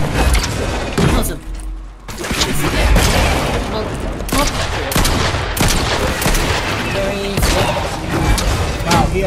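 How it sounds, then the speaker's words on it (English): Rapid gunfire and booming shots from a pumpkin launcher and shotgun in the Fortnite video game, loud and dense with repeated blasts and bursts over continuous game noise, with voices talking throughout. "he has a pumpkin launcher and a shotgun"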